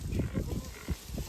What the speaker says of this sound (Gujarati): આવી ગઈ બધી ભેંસો આવી ગઈ